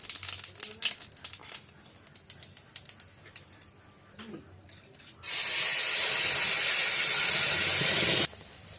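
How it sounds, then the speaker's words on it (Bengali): Onion, garlic and ginger paste frying in oil for a fish curry: soft clinks and small knocks at first, then a sudden loud, steady hiss that holds for about three seconds before cutting off. "রসুন ভালো করে ভাজা হয়ে গেছে, তেল ছেড়ে দিয়েছে"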